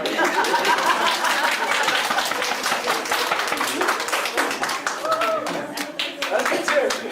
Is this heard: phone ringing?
no